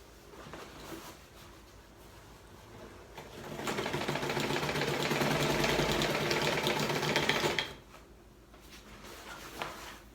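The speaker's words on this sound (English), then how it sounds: "There's two straight stitches that I'll do in the 9-foot length, and then it will also get a zigzag on the edge to keep the canvas from fraying." A sewing machine runs straight stitches along a nine-foot length of canvas for a hot tent, a close, buzzing mechanical whir that starts after a quiet stretch, runs steadily for about four seconds, then stops.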